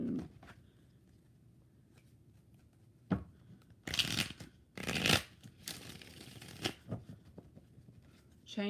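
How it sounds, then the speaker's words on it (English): Tarot cards being shuffled during a live reading, several quick riffling and crunching bursts in a row, fairly close, with faint quiet gaps between them. "3 shuffles for Vita."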